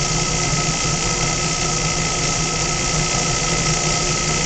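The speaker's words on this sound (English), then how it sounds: "This is what the motor is actually turning right here, and that is close to 1800 RPM." An electric motor spinning near 1800 RPM under a stroboscope, giving a loud, steady mechanical drone with a high whine that holds constant without change for a few seconds.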